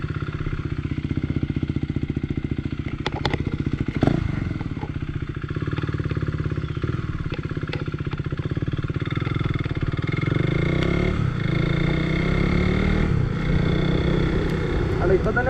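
A KTM RC 390 motorcycle with the dB killer removed idles with a pulsing, throaty exhaust, then rises into a louder sustained rev and drone, close by with a few clicks.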